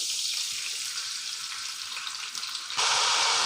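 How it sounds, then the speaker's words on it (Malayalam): Pork fat and oil poured into a hot uruli for a Kerala-style pork fry gives a loud, steady sizzle that surges even louder and brighter near the end. "അതിലേക്ക് നമുക്ക് പോർക്ക് വെന്തിട്ടുള്ള എണ്ണയും നെയ്യൊക്കെ ഉണ്ടല്ലോ അത് ഇതിലേക്ക് ഒഴിച്ചു കൊടുത്തേക്കാം"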